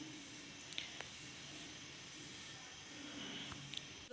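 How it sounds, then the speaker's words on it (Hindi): Beef koftas lightly coated in dry flour fry in oil, giving a faint, even sizzling hiss that runs steadily throughout with a few small pops. "मैंने कोफ्ते के ऊपर हल्का सा खुश्का लगा के तो इन्हें फ्राई करने के लिए रख दिया।"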